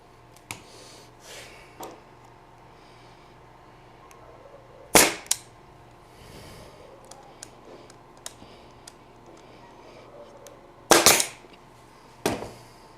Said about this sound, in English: I'm going to repeat the process, staple those two together